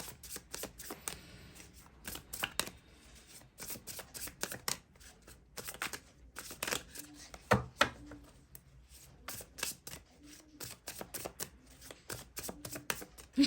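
Tarot cards being shuffled up close, with irregular riffles and soft slaps coming in uneven bursts over a quiet room, with no talking.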